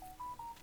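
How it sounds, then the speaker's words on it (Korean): Three short, steady telephone tones sound in quick succession from an incoming spam call, clear and alone over a quiet background. "스팸 전화 안 받아야 되는데 이게 스팸 전화인지를 모르니까"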